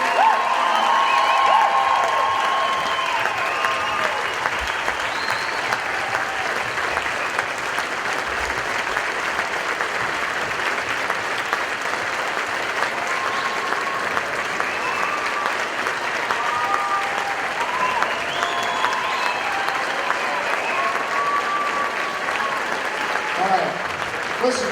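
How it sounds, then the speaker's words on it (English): A concert audience gives a long, sustained ovation for a veteran teacher being welcomed to the stage, loud and dense throughout, with some cheering and a few voices mixed into the crowd noise. "I know you want to keep applauding"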